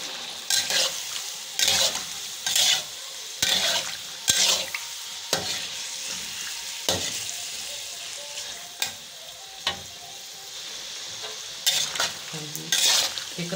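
Chicken for charsi karahi fries in a pan with a steady sizzle, broken by repeated loud bursts of stirring and utensil scraping at irregular intervals; no voices.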